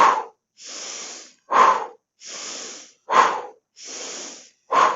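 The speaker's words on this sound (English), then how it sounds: "We're going to do a little bit of huffing and puffing." Rhythmic huffing and puffing breath exercise in a somatics fitness session, with sharp forceful exhales alternating with longer, softer inhales, repeated steadily about four times, close and clear with no talking.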